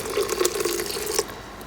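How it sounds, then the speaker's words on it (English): Water poured from a container into a gram flour (besan) mixture inside an Instant Pot pressure cooker, making a steady splashing trickle that runs for over a second and then eases off, close by with no talking. "now I'll add a little bit of water."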